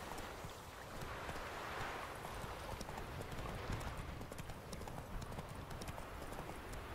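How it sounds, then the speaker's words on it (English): Rapid clip-clop of horse hooves on a hard surface in a video game, continuous and fairly close, with a windy outdoor background. "get on the horse"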